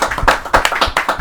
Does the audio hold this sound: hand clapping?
yes